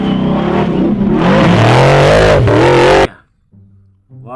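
A toy off-road car motor whines loudly up close, rising in pitch like revving, then stops abruptly, leaving only a faint low hum.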